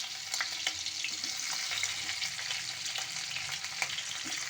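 Chopped tomato and capsicum frying in a pan after spices, giving a steady moderate sizzle with occasional stirring clicks, close by and without talk.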